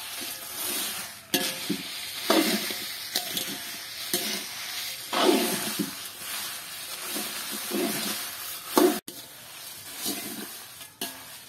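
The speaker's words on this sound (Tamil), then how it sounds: "கொஞ்சம் நேரம் நீங்கள் எரிக்காமல் அப்படி அந்த கனலில் வச்சு வறுத்தா" Curry powder spices dry roasting in a pan over a low flame, stirred in repeated scraping sweeps with a soft, dry hiss between strokes, close and steady, with no talk.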